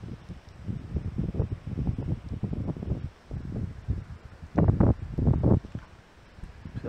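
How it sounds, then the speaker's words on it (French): Strong wind buffeting a microphone outdoors during a hunting walk with a pointer dog, low rumbling gusts rising and falling irregularly throughout, loud and close, with no speech. "Beaucoup de vent aujourd'hui."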